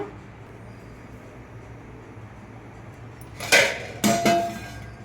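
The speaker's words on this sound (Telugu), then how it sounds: "కొంచెంసేపు మూత పెట్టుకుందాం" Metal lid set onto a pot of Nellore-style fish curry, with two close, sharp clanks about half a second apart after a quiet kitchen hum.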